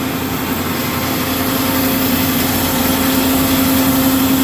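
A Marvel MV 525 vertical mitering bandsaw cuts through stock with a steady, loud, close hum of motor and blade, continuous throughout with no audible stop.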